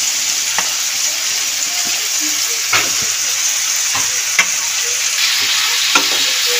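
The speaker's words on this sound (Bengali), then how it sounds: "নাড়িয়ে নেবো ভালো করে একটুখানি উপর নিচ করে।" Pumpkin, eggplant, sweet potato and other vegetables sizzle steadily in a hot pan while a spoon stirs them, giving several distinct scraping clinks over the constant frying hiss.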